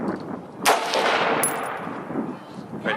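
A single sharp AR-15 rifle shot at an outdoor shooting session, loud and close with a ringing decay, followed moments later by a fainter second report.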